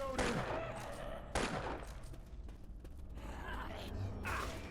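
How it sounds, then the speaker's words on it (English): Burst rifle (desert rifle/SCAR) gunfire in the Left 4 Dead 2 video game, a modded weapon on a custom campaign: two sharp bursts of shots early on, then game clatter and mechanical sounds at low volume. "I'm using the burst rifle, or the desert rifle, or the SCAR, or whatever, because I downloaded a mod for it"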